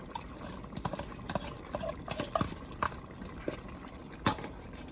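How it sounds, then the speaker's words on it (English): Liquid is slowly poured into a pot of homemade turkey chili, making soft irregular drips and splashes up close at low volume, with no talking. "And we're going to slowly pour it."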